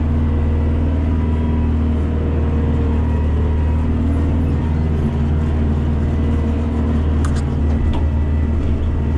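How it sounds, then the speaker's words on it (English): A Kioti DK40 tractor with its loader lifting a load of logs runs at a steady loud engine drone with a whining hydraulic strain from the detent valve, close and continuous, without talk. "you can hear I think it's called the detent valve"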